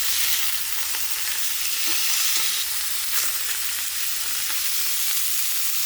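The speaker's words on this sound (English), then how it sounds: "Sizzle beef." Beef sizzles loudly in a hot pan, a steady bright hiss with scattered crackles and pops throughout.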